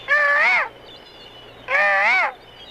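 Two loud, drawn-out crow-like caws sound close by in a penthouse aviary, each lasting about half a second and separated by a brief pause.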